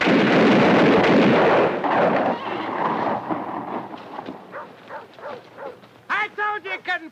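A volley of rifles fires in a 1964 western film scene as a loud, dense crash that rolls and fades over a couple of seconds. Shouting voices and dialogue follow.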